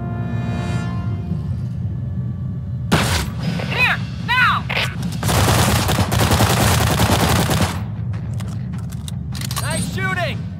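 Gunfire in the shooter game BlackSite: Area 51, with bursts of loud, dense shots and impacts spread across the clip, mixed with in-game voices and a steady background soundscape.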